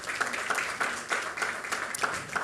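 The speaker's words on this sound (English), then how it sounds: "Please, a round of applause for her." An audience applauds to welcome a moderator to a panel on central banking and digital finance in Ghana, with steady, dense clapping throughout that swells in a few bursts.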